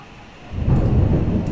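Thunder in the video game MAMIYA rolls in after a brief quiet start, a loud, deep rumble that swells and holds steady to the end with no talking.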